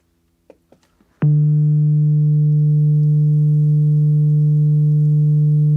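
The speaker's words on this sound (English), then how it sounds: "send pure sine waves to your speaker" Several faint clicks and taps, then a loud pure sine tone starts abruptly from a speaker and holds steady and unwavering to the end.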